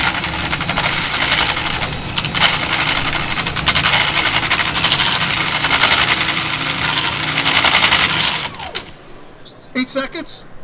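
A RIDGID K9-306 FlexShaft drain cleaning machine's motor runs steadily and loudly at a trade show demonstration, under a busy noisy background with voices, then cuts off near the end leaving brief faint sounds.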